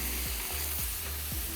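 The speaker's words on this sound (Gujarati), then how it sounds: "હવે એને તેલ ને ડુંગળી સાથે એકદમ સરસ સાંતળવાનું." Mutton pieces sauté with onions in hot oil for nihari, a loud continuous sizzle with a few soft rhythmic stirring scrapes, no voices.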